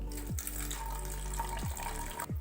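Water gushes from a tap into a bottle already holding toothpaste and salt, a steady close running-water sound that fills nearly the whole moment before cutting off.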